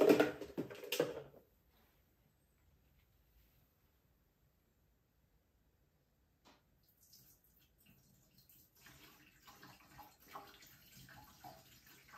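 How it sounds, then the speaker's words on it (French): Hot water poured into a rusty tank that is being treated with degreaser: a short splashing pour right at the start, then near silence, with faint trickling and sloshing returning later. "On va mettre un deuxième litre d'eau chaude."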